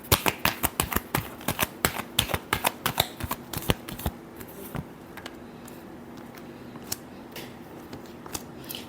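Tarot cards get shuffled in a quick run of crisp riffling snaps at close range, then slow to a few scattered flicks and soft taps.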